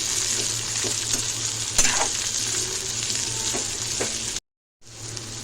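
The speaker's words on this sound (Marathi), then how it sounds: "भेंडी टाक भेंडी आपण परतून घेऊया" Okra stir-fries in oil with green chillies for a fasting-day bhaji, a close, dense sizzle with stirring scrapes and clinks, cutting off briefly near the end before the frying resumes.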